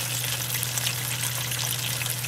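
Hot and spicy fried chicken sizzles steadily in hot oil, a constant close crackling hiss with a low hum beneath, no voices.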